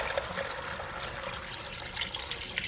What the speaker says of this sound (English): And then we'll pour in our broth or stock.